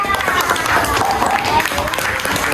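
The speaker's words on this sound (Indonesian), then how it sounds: "Tepuk tangan dulu buat teman-teman." Fifth-grade schoolchildren clap for their classmates in a classroom, a dense, loud patter of many hands with children's voices running through it.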